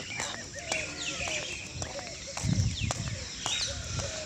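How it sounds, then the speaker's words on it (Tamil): Birds chirp and twitter around a home set among green surroundings, with a busy, overlapping chorus of short calls and sweeping notes at moderate distance, while people talk in the background. "வீட்டில் பறவைகள் எவ்வளோ சத்தம் பாருங்க"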